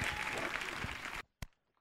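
Congregation at an evangelical church service breaking into loud applause that stops abruptly about two-thirds of the way through, followed by one last sharp clap.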